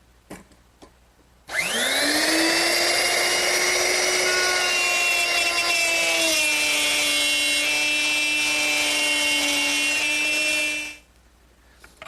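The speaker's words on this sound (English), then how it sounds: "Now plow a groove in and stop just a little bit short of this lip." A router fitted with a straight slot bit plows a groove in wood for a candle stand, spinning up to a loud, steady high whine that runs about nine seconds with a slight pitch dip as it cuts, then winds down.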